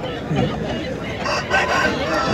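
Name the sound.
roosters crowing at a cockfight tournament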